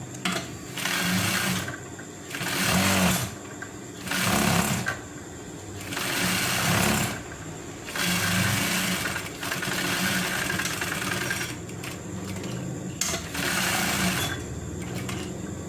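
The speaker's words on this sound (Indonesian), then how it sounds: "kalau udah begini dijahit sekitar setengah senti dari pinggir" An electric sewing machine stitching a shirt collar about half a centimetre from the edge runs in loud bursts of rapid mechanical whirring, stopping and starting repeatedly with short pauses between runs.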